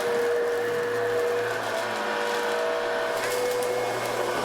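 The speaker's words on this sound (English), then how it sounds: "hate the sound of vacuum" Vacuum cleaner running indoors, a steady close whine with a constant hum that holds for the whole stretch, with a short change in pitch near the end.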